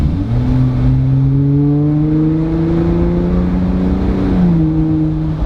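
A Jeep Wrangler JL accelerates from 25 mph, its engine note climbing steadily in pitch, loud and close, with a brief dip near the end before holding steady.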